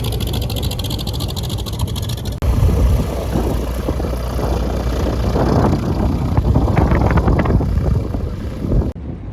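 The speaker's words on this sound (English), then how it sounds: "It's windy as fuck today, so we're not flying this morning." Steady, heavy roaring wind buffets the microphone throughout at the Sun 'n Fun fly-in, a continuous rumble with gusty surges and no voices.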